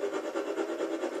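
Synthesizer oscillator producing a soft swooshing noise with a quick, even pulsing rhythm, faint and brief, with no voice.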